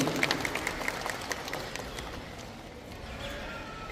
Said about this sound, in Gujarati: તાળીઓથી વધાવી લઈએ મિત્રો.